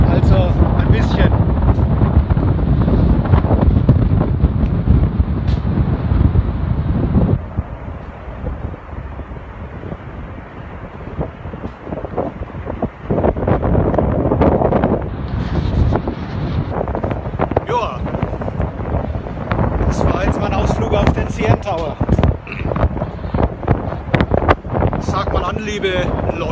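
Strong, cold wind in Toronto buffets the microphone in gusty rumbles, with a person talking through much of it.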